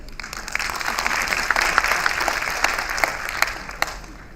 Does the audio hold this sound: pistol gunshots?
no